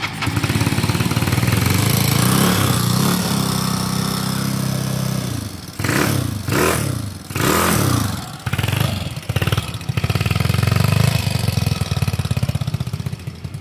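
A motorcycle engine with a worn camshaft, no shroud and a chrome bore, starts and runs loud and close with a rough, ticking idle, then is revved in several sharp bursts before settling back to a steady idle.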